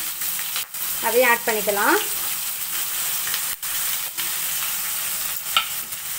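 Onion, curry leaves and dried red chilies sautéing in a pan for sambar rice, a constant close sizzle with a few scrapes and clicks, and a voice speaking briefly over it early on.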